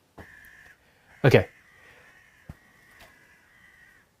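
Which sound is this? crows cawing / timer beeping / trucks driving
crows cawing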